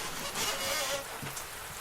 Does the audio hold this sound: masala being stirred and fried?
no